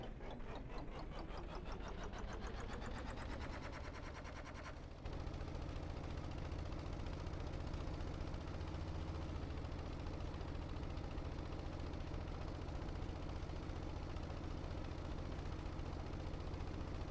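In Stormworks, an engine with an impeller runs up to a fast, rattling drone as it expels exhaust, then settles into a loud, steady roar for the rest of the clip, with no talk.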